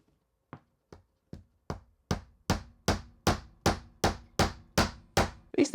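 Tiny nails being driven by hand with a hammer, a steady run of about a dozen sharp, ringing taps that start soft and get louder and quicker, close up and alone.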